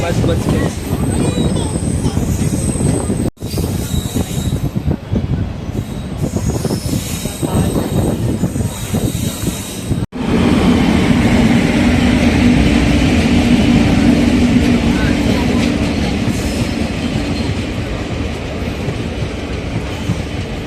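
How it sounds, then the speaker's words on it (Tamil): A Coimbatore–Nagercoil passenger train crosses at Somanur station, heard from aboard another train: a loud, continuous rumble of wheels and carriages with squealing and clacking, sharp transient bursts as it rushes past close by. "கோயம்புத்தூர்லேருந்து நாகர்கோயில் போகக்கூடிய passenger train, Coimbatore Nagercoil passenger train தான் இப்போ சோமனூரில் நம்மளை கிராஸ் ஆகி போயிட்டுருக்கு"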